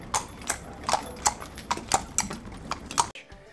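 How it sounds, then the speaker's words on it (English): Horse hooves clip-clop in a steady, fairly quick rhythm of about a dozen crisp, close hits, a sound effect that cuts off abruptly. "You still get around by horse and carriage."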